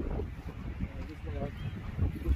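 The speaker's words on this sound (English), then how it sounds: "Windy and rainy right now." Wind and rain buffet the microphone outdoors on a blustery crabbing outing at Garibaldi, Oregon, a steady low rumble and hiss of gusts with a person talking over it throughout.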